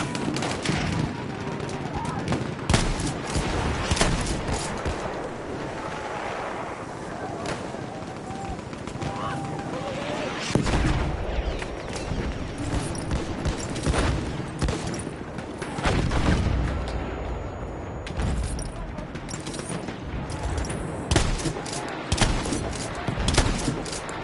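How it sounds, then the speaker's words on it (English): Shotgun blasts ring out amid dense, constant gunfire and explosions on a World War I battlefield in Battlefield 1, the shots loud and close over a steady roar of combat, with a voice talking at times. "The shotgun does have a little bit of range."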